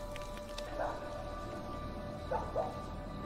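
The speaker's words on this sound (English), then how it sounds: "Dog is still freaking out, though." In the horror video game Maid of Sker, set in a graveyard, a frightened dog gives faint, brief whimpers and yips. The sounds come twice, distant and quiet, under a steady background hum.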